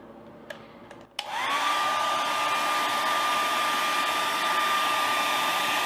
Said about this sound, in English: we're gonna blow the air dryer and like put it on high heat